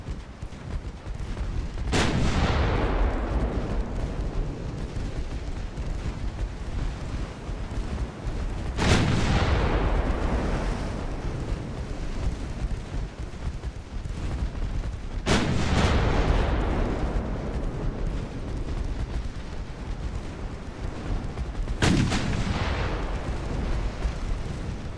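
A warship's secondary guns fire at light cruisers in a naval video game: four heavy booms spaced several seconds apart, each trailing a long rumbling decay over constant background noise, with no voices.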